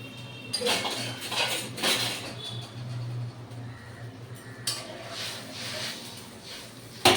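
Metal pot and utensil clinks around a cooking pot of thin mango chutney as the lid goes on, several sharp close clatters separated by quieter gaps.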